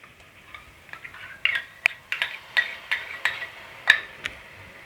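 Spoon clinks and scrapes in a pan as yogurt is stirred into soya chunk biryani masala, a series of sharp irregular taps over a soft background hiss, fairly close.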